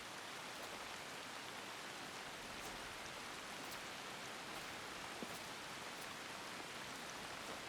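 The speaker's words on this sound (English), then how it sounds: "But it's raining!" Steady rainfall in the video game Assassin's Creed Shadows, an even, continuous hiss of drops on surfaces with faint scattered ticks, alone without voices throughout.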